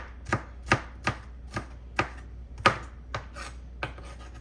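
Steady knife strokes chopping bread into small pieces on a board, about ten crisp thuds at a regular pace, close and fairly quiet with no talking.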